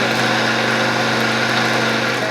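A Magimix 5200 XL food processor grinds peanuts finely, a loud, steady motor whir with a dense rattling buzz from the nuts, continuous and unchanging throughout.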